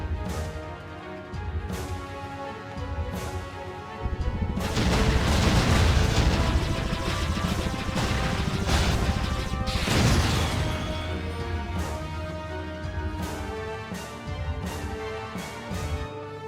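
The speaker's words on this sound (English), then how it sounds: "Lots of explosions." Heavy explosions and crashing blasts in the Jade Empire video game, a loud sustained barrage of booms over a musical score, with a few sharp impacts standing out.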